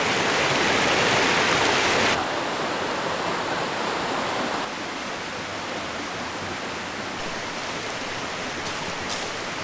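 Rushing river water on the Cobrabald River, a steady loud broadband roar that stays unbroken throughout, slightly softer after the first couple of seconds and again midway, with no voices.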